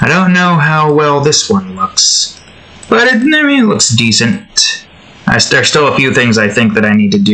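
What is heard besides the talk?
No everyday noise stands out behind the speech.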